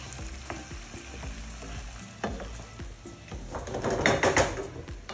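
Shrimp, bacon and pasta sizzle in a pan with lots of garlic, a steady close frying hiss punctuated by utensil clinks and scrapes, swelling louder toward the end.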